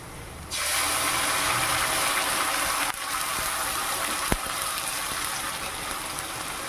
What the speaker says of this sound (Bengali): সামান্য একটু পানি দিয়ে দেব